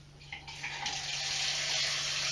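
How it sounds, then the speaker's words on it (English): Water gushes steadily from a bathtub faucet after it is turned on, a close, continuous hiss that swells slightly over a couple of seconds, with no voices. "I'm going to turn the faucet on."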